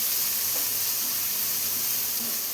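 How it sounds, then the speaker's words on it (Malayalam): Onions sautéing in a pan for a brinjal (eggplant) curry give off a steady, close sizzle and fry hiss that runs unbroken throughout, with no talking. "ഇനി എല്ലാം കൂടെ ഒന്ന് വഴറ്റിയെടുക്കാം."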